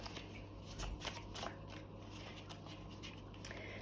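Goddess Guidance Oracle cards shuffled by hand, a steady soft papery riffling and sliding with small crisp flicks, close and quiet, without talk.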